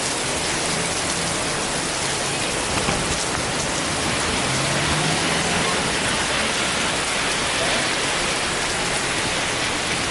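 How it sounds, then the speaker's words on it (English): Steady, dense rain pours down, a continuous close hiss of drops on surfaces with no breaks and no voices. "I showed that rain coming down"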